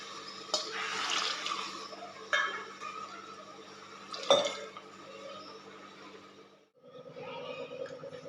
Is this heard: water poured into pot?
yes